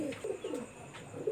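Pigeons from a breeding master pair in a home loft coo in repeated low, rolling bursts, close and clear with little else around.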